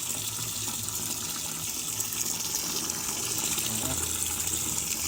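Yellowish, discolored tap water gushes in a steady, even stream from a faucet in Rodriguez, Rizal, a close and continuous splashing rush.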